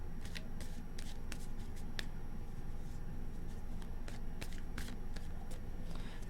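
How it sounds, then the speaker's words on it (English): Tarot cards being shuffled by hand, giving repeated crisp riffles and light slaps over a steady low background, close and fairly quiet, with no talking. "Let's do 2 more shuffles."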